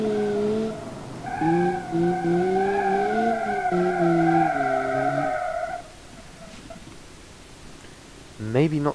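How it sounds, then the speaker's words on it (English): Tires squeal in long sustained wails as a car drifts and skids in the BeamNG driving game, several stretches of screeching with a short pause, then a quieter gap and a brief final squeal. "maybe the car is not the best at drifting"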